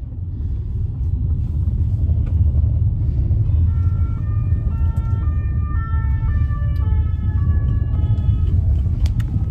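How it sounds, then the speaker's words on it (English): Paris city traffic with a siren wailing over a steady low road rumble, its alternating two-tone pitch loud and continuous through the whole stretch. "just a few seconds of Paris traffic."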